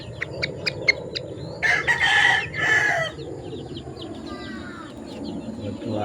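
Young gamefowl chickens out on an open range, with a run of short clucks and chirps followed by a loud crow from a nearby rooster, over a low outdoor background.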